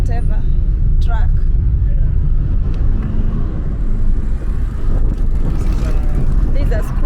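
A Tanzanian truck hauling wood rolls past on a rural Kenyan road. Its heavy engine gives a loud, close low rumble that swells and fades, and voices talk over it.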